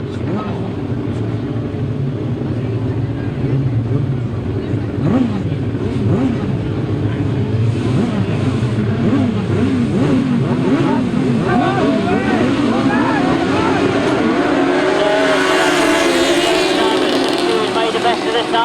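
1000cc grasstrack sidecar racing outfits roar past in a pack, their engines rising and falling in pitch as they pass close by and accelerate, loud and sustained under a commentator's talk.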